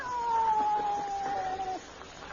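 A cat meows once as a long, falling tone that fades out over about two seconds, set against a quiet room hiss as a radio drama sound effect for a pet cat named Alice on a hot night by a porch.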